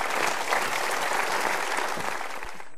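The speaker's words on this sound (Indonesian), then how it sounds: "Kita berikan tepuk tangan untuk dua orang ini" A studio audience applauds steadily at a talk-show seminar, dense even clapping held for a few seconds then cutting off.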